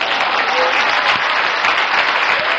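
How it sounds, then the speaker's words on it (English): Dense, sustained clapping from an audience at a leadership sermon, loud and steady throughout with no speech over it. "Clap your hands, somebody."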